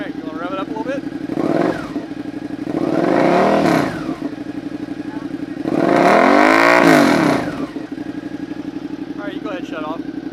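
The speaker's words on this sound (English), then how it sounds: "Alright, you want to rev it up a little bit?" A Suzuki SV650 motorcycle idles, then its engine is revved twice in loud, rising and falling bursts that swell and drop back to a steady idle, with people talking nearby.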